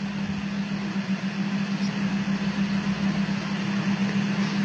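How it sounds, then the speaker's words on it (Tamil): A mixer grinder jar coarsely grinds whole spices: bay leaf, cinnamon, cloves, cardamom and fennel. A steady motor whine hums close and continuous, with a faint rattle of spices underneath and no talking. "ஒரு மிக்சர் ஜாரில் ஒரு பிரியாணி இலை, ஒரு துண்டு பட்டை, 3 கிராம்பு, 2 ஏலக்காய், கொஞ்சோண்டு சோம்பு போட்டு கொஞ்சம் கொரகொரப்பாக அரைச்சி எடுத்துகிட்டு வந்துடலாம்"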